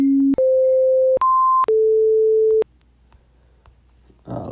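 Test tones from the Physics Toolbox Sensor Suite phone app: a sequence of steady pure tones stepping up and down in pitch, separated by short clicks, ending in a very high whine and a brief noisy burst.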